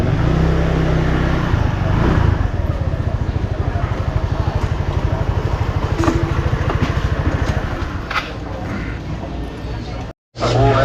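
A motorcycle engine idles close by near a market with a steady, throbbing chug, then it briefly cuts out near the end before the outdoor noise returns.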